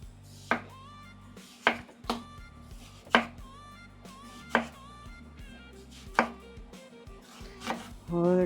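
Knife chopping white onions on a cutting board, a series of sharp, irregular thunks close up, with quiet rustling between strikes and no talk.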